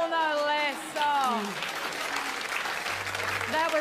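A television music quiz show studio audience applauds loudly and steadily, with a host's voice talking over the clapping throughout.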